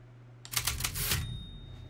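A typewriter in the video game Resident Evil Village gives a short burst of several quick mechanical clacks, clear and alone against a quiet background.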